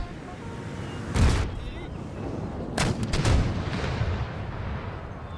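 Artillery volleys from the PC strategy game Empire Total War: three booming cannon bursts, one alone and then a close pair, crackle over a steady battlefield rumble.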